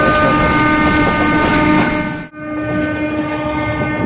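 A train rumbles loudly along the rails between Khulna and Jhikargachha, Bangladesh, with a steady clatter, the noise dipping briefly mid-way before continuing, no voices.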